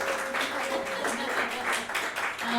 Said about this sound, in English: So songwriting is just fantastic, ladies, so give them a round of applause